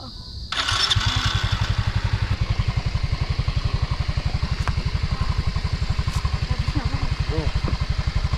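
A motorcycle taxi engine starts and then idles with a fast, steady chugging putter, loud and close, with a voice briefly heard over it.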